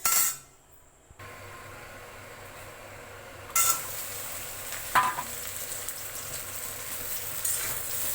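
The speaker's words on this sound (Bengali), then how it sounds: "কড়ার মধ্যে এবার আমি ধনিটা দিয়ে ভালো করে ভেজে নিচ্ছি" Coriander frying in a wok on a gas stove: a brief burst of sizzle, a pause, then a steady close frying hiss with occasional metallic clinks from stirring.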